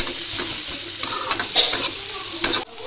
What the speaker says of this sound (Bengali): আর দিলাম হচ্ছে একটু কাশ্মীরি রেড মির্চ দিয়ে এবার আমি এটাকে একটু